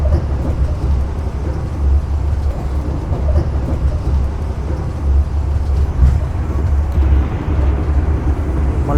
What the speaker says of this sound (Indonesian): ini kita melintas langsung stasiun Babat